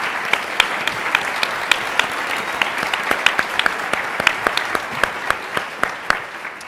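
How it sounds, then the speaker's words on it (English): A convention audience at the American Chemical Society National Convention 2018 claps steadily and loudly, a dense sustained round of applause with individual sharp claps standing out. "Give these people a round of applause"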